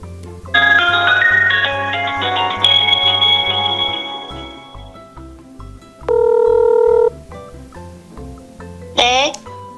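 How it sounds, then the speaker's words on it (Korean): A telephone call being dialed and connected: a ringing-style melodic tone sequence over a low rhythmic music bed, then a steady two-tone beep, and a short rising chirp near the end, fairly loud throughout. "그럼 전화 연결을 또 해보겠습니다."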